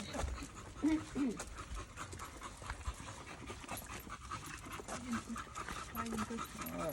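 A Staffordshire bull terrier pants rapidly and lets out a few high whimpers up close on a walk outdoors, the breathing quick and continuous, while a person talks over it.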